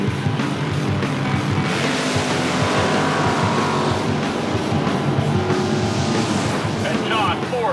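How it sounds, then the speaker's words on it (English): Funny car drag racing run at a national event, with John Force racing in a final session: a continuous loud engine roar fills the whole stretch at close range, steady and dense, with a crowd or commentary-like murmur underneath. "The funny cars are at the line for this final session."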